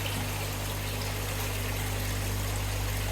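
Water flows through a fish room filter sump with a steady, close trickling rush and a constant low pump hum underneath, heard alone.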